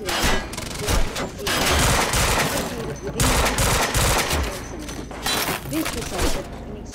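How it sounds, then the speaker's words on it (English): Gunfire in the video game Quantum Break, dense bursts of automatic shots and loud reports in quick succession, with voices shouting over the fighting. "We're under fire!"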